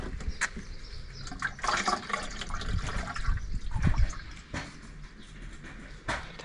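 Water splashes and trickles unevenly as it is poured onto a potted lavender plant, with gurgling and a few louder gushes throughout.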